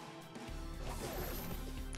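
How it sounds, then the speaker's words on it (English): A heavy sword blow from the Fate/Stay Night video game smashes into the ground as one loud, sustained crash with a swooshing rush on top. "The girl's blow cuts through the air and destroys the ground, kicking up dust."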